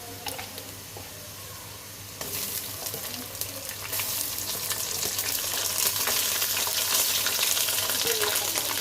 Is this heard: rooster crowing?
no